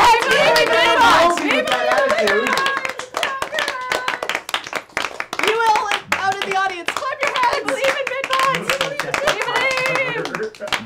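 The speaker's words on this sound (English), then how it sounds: "Clap your hands for BidBot." Group of people clapping hands in a loud, sustained burst of sharp claps, mixed with lively chatter and excited voices talking over the clapping throughout.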